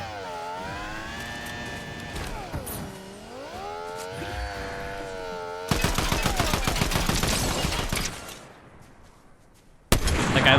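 Rapid bursts of Warforged AR assault rifle fire in Fortnite Zero Build, a dense rattling volley that starts mid-clip and runs for a couple of seconds, with a sharp burst returning at the end after tonal game sounds and a short lull.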